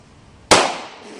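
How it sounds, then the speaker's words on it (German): A single sharp firecracker bang bursts out of quiet in Hamburg, loud and close, followed by a short fading echo. "Alter, was sind da für Knaller?"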